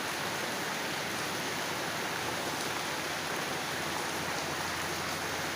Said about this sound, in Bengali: 6টা 1 মিনিট থেকে মুষলধারে বৃষ্টি হচ্ছে শীতলক্ষ্যা নদীর পাড়ে